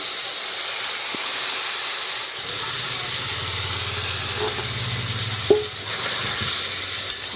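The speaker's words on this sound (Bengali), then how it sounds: "এদিকে এঁচোড় আর মাটন যে খুন্তিটা দিয়ে নেড়ে চেড়ে মিশিয়ে নিয়েছি সেটা দিয়ে দিচ্ছি" Raw jackfruit and mutton tipped into a hot pan, where a constant steamy hiss deepens into a fuller low sizzle partway through, with a couple of sharp utensil knocks.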